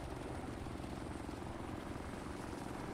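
A military helicopter in the Arma video game flies nearby, its rotor thumping in a steady, continuous drone, heard alone and fairly quiet.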